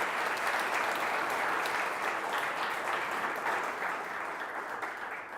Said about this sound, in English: let's give her, Natalie and the rest of the girls, a nice round of applause